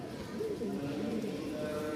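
Rajshahi Giribaz pigeons cooing, with soft, low, rolling coos heard close by under a continuous murmur of talk.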